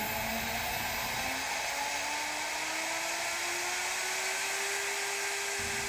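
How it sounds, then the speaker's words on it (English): A Lead CNC machine's variable speed spindle spins up to speed, giving a steady, continuous whine that climbs slowly in pitch over several seconds, with no talking. "Then wait about 10 seconds for the spindle to get up to speed."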